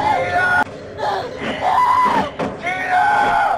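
A woman screams hysterically in a bedroom in her sleep, loud sustained wails that break off briefly and start again, with a crowd-like layer of voices behind them.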